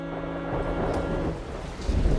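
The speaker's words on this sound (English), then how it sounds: "It begins to rain." Steady rain pours at night outside a three-storey house, with deep thunder rumbling low beneath it and swelling louder toward the end.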